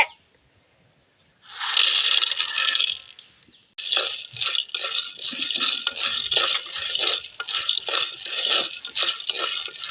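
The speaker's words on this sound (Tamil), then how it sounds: "நூறு கிராம் நிலக்கடலை போட்டு வறுத்துக்கலாம்" Peanuts, about a hundred grams, dry-roasting in a heated pan for a navadhanya laddu sweet, rattling and clinking in a steady stream of close, bright scraping stirs after a brief first burst.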